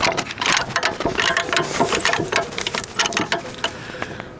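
A manual spare tire carrier crank on a Hummer H3 turns with a quick run of close, dense mechanical clicks and ratcheting taps that carry on steadily for a few seconds.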